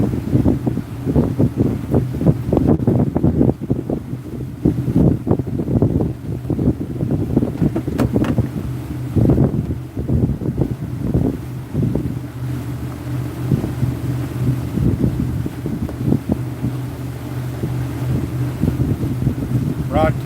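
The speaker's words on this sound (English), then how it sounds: "Got a little side wind going on here." Side wind blowing across a boat, a steady, blustery rumble with microphone buffeting that runs loud and unbroken throughout.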